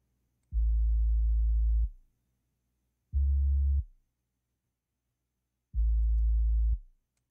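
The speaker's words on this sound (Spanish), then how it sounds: "Nada más es una onda senoidal" A pure sine-wave sub-bass synth from FL Studio, lightly distorted and with the upper mids cut, plays three deep, smooth sustained notes separated by silence, loud and isolated.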